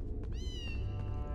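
A cat meows once, a clear rising-falling cry, in the Harry Potter PS1 video game, heard over a steady low background hum with no talking.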